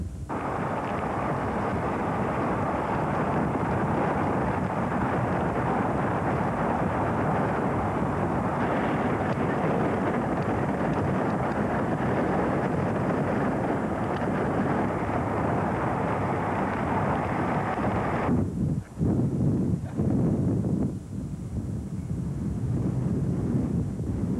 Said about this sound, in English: The wind's picking up, and the bay is starting to swell.